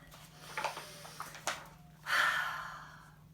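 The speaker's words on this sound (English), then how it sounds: "Let's take a deep breath." A single slow, deep breath from a storyteller, a soft airy rush swelling near the end after a few faint clicks and small mouth sounds, close and quiet with no talking.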